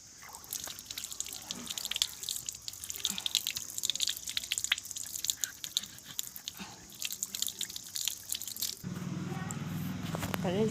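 Raw mangoes washed with water: close trickling, dripping and splashing with small knocks of fruit, continuing throughout and shifting to a steadier, lower tone near the end.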